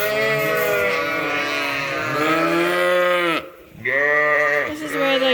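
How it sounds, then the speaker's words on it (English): Sheep and young lambs in a creep pen on a farm, calling out in loud, close, drawn-out bleats that overlap one after another, with a brief pause midway before more bleating resumes. "This is where the young lambs are."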